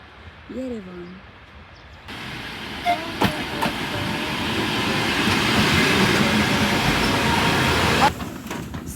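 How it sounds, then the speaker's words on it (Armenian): Passenger train arriving from Gyumri, Armenia, bound for Yerevan, builds from a quiet start into a loud, steady broadband rumble and rush of wheels that holds for several seconds before cutting back, with a brief voice-like call near the start. "Մեզ է մոտենում Գյումրիից ժամանող գնացքը, ուղևորվում ենք Երևան։"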